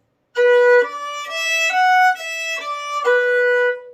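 A fiddle plays a phrase of the tune Squirrel Hunters: a run of about six clear bowed notes, sustained and closely played, heard alone without talk.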